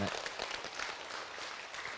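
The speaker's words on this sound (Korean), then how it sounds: "박수로 맞으세요." An audience at a Buddhist monk's dharma talk breaks into applause, a faint, dense patter of many hands clapping at a distance, sustained briefly.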